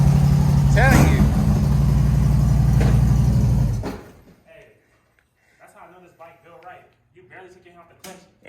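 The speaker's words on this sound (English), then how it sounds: "About to get this bike going." A Harley motorcycle engine runs with a loud, deep, throbbing idle up close for about four seconds, then stops abruptly, followed by people talking nearby.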